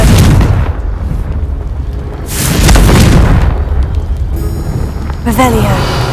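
A Confringo fire spell in the Hogwarts Legacy video game sets off heavy, rumbling booms in repeated loud waves, with a voice calling out among the blasts.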